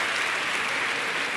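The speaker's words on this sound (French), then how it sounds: "Mais applaudissements pour Denis" A large crowd of about 2,000 at the Olympia applauds Denis at a live show, dense, loud, continuous clapping filling the whole moment.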